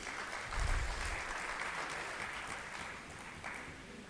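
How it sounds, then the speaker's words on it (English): An audience at an AI hackathon in Bahrain applauds as a presenting group comes onto the stage, a steady round of clapping that swells early and then holds evenly throughout. "Round of applause for group number 1, please, as they come onto the stage."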